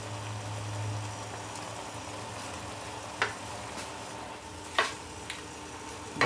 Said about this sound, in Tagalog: Bahagya lang natin haluin